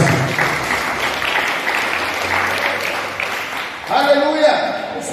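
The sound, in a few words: congregation clapping hands for the Lord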